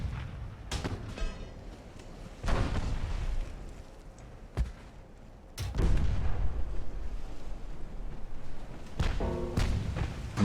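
Shells striking a battleship in Ultimate Admiral: Dreadnoughts, several heavy booming impacts spaced a few seconds apart, each a sharp thud followed by a decaying rumble, with quieter gunfire between.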